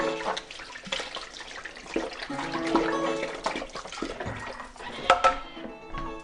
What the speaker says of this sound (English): I'm just going to wash up the spatula quickly.